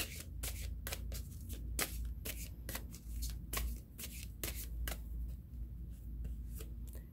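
A deck of tarot cards being shuffled by hand, a steady run of crisp riffling flicks and slides, close and fairly quiet with no talk.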